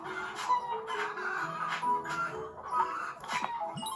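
Chickens in a farming video game cluck in short, repeated bursts of moderate loudness against a busy background of game sounds.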